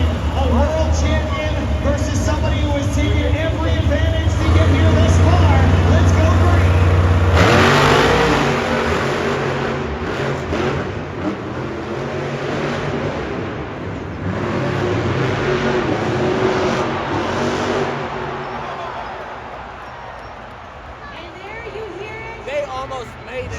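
Monster trucks JCB Digatron and Scooby-Doo race head to head at a Monster Jam world finals stadium, engines revving loud and continuous with a low rumble that surges sharply, while a crowd roars and an announcer talks over it.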